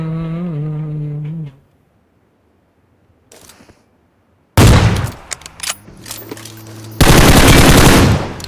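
AWM sniper rifle gunfire erupts in PUBG Mobile as loud, sharp bursts of shots after a quiet gap, following an engine-like drone at the start.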